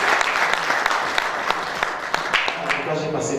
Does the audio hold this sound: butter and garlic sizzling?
no